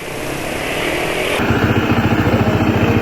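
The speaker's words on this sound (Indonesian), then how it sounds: "CVT yang bunyi berisik untuk PCX 160." A Honda PCX 160 scooter with a noisy CVT, its rough engine and transmission growl turning into a rhythmic, pulsing rattle close by, loud and without voices.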